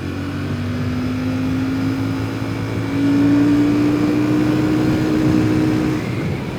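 A Royal Enfield Classic 650 Twin motorcycle engine pulls hard in second gear under open throttle, a loud, steady tone rising smoothly in pitch over several seconds and swelling midway, with no voices.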